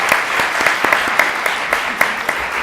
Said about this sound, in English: One final round of applause for our panelists.